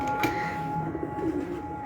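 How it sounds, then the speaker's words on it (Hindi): A breeder pigeon coos in low, soft rumbling phrases close by, over a steady background hum, with a brief sharp knock near the start. "इस कबूतर का मादी का फर्क है।"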